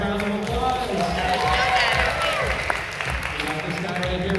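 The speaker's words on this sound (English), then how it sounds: "Give him a big round of applause." Audience applause and cheering at a stage hypnosis show at a high school prom, a steady dense wash of clapping and crowd noise holding loud throughout with voices mixed in.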